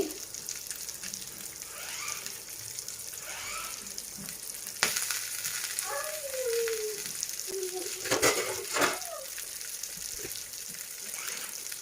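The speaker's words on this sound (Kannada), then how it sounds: "ಕಡಿಮೆ ಉರಿಯಲ್ಲೇ ಫ್ರೈ ಮಾಡ್ಕೋಬೇಕು ಎರಡು ಫಿಶ್ನ ಹಾಕ್ಕೊಂಡಿದ್ದೀನಿ" Two mackerel (bangude) pieces frying in oil in a pan over a low flame, making a soft, continuous sizzle with a few faint clicks and brief bumps, while quiet voices and other kitchen sounds come and go over it.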